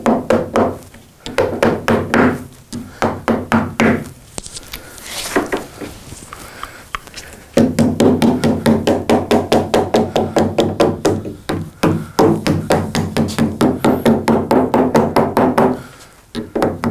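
Repeated tapping on a part with a socket during restoration of a Mortal Kombat II arcade machine, bursts of sharp rhythmic knocks that are loud and close, separated by short pauses.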